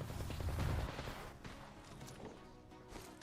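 Video game gunfire arrives as a quick, rattling burst of shots followed by scattered distant pops and impacts, fairly faint against the surrounding game audio.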